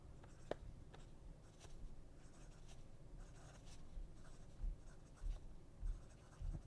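Bexley broad-nib fountain pen writing on paper, soft close scratching strokes with small taps and pauses, quiet and alone.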